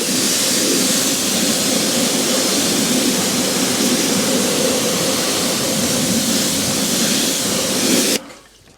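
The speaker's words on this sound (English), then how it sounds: "To start cleaning these wheels, I'm going to give them a quick rinse down, and hopefully that'll get all that sort of loose wheel grime off there and brake dust." Water rinse spraying grimy, brake-dusted wheels on a 2007 Subaru WRX, a steady loud hiss of spray that runs unbroken and cuts off abruptly near the end, no voices.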